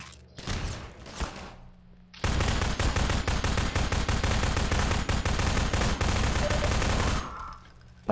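Sustained automatic gunfire in a modded video game roars in a dense, loud, continuous burst lasting several seconds, preceded by a few sharper shots and followed by a quick fade.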